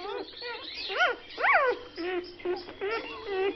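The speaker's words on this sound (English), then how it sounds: "They're Yorkshire Terriers." Small Yorkshire Terrier dogs yip and whine in a quick series of high, bending cries, some sharp and some drawn out, heard fairly close and prominent throughout.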